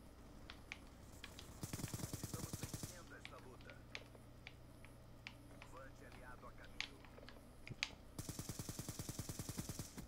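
Rapid bursts of gunfire from a shooter video game, with automatic volleys near the start and end and scattered single shots between, heard under someone talking.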